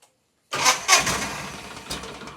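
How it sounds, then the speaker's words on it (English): A 37-year-old John Deere 316 lawn tractor with a new fuel filter and some carburetor issues cranks after a moment of silence and catches, its engine loud and close as it sputters toward an uneven idle. "Might as well go ahead and fire this thing up and see how she runs with the new fuel filter"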